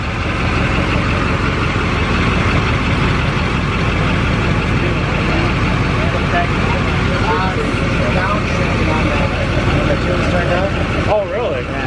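Diesel service truck engine running loud and steady on dyno rollers, a heavy continuous drone with shifting tone as it downshifts in fourth, with people talking over it throughout.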